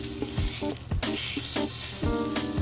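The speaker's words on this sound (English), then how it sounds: "Now we'll put our steak into the pan and we're going to keep cooking until it develops a nice crust." A sous vide steak sears in smoking hot oil in a pan, a loud, close, continuous sizzle with a few brief stirring scrapes and bumps, and no voices.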